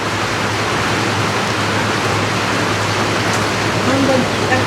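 Heavy rain pours down during a storm as a dense, steady, close hiss that fills the whole stretch, with a faint voice briefly audible near the end.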